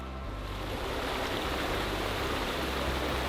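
Broadband rushing water of a river beside rugged, boggy walking terrain, a steady continuous wash with low rumble, close and even throughout without voices.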